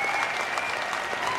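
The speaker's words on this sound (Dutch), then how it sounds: "Mooi applaus. Echt prachtig." Live audience in a studio hall applauding steadily, a dense wash of clapping that holds at full level throughout with a faint crowd murmur underneath.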